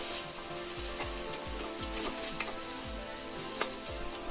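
Steady sizzling from finely chopped tomatoes sautéing in a pan for bread masala, with soft rhythmic scrapes of a spoon stirring every half second or so.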